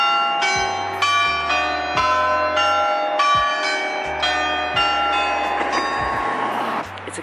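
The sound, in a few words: bell chiming the hour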